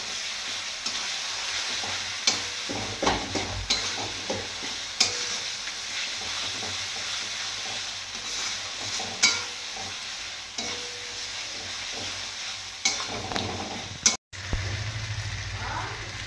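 Spices with salt and turmeric sizzle and fry in a pan while a spoon stirs and scrapes in uneven strokes, close and continuous, with a few sharper clacks against the pan.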